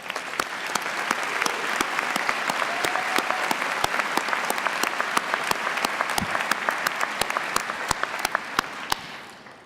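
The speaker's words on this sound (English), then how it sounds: "You deserve a big round of applause from all of us." Audience applause fills a graduation ceremony for an engineering school's graduate programs, a steady dense clapping that holds for about ten seconds before tapering off, with no talking over it.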